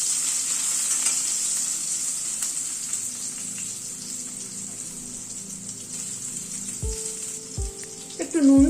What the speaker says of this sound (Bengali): আলুটাকে একটু ভেজে নিচ্ছি